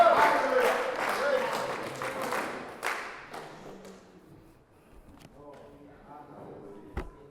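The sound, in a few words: congregation clapping as an offering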